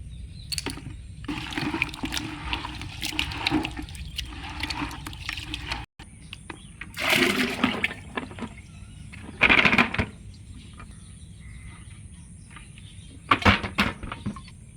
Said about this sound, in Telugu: ఈ పుట్టమట్టిని కూడా మనం వేసి పలచగా కలుపుతున్నామండి నీళ్ళతో కలిపే పొయ్యాలి